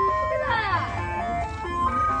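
Ice cream truck jingle playing near a playground on a summer day, a bright looping tune rising and falling at moderate distance, with voices talking over it.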